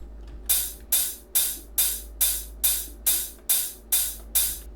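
A synthesized dubstep hi-hat plays ten evenly spaced bright, crisp hits with short decaying tails, steady and upfront over a faint low sub hum.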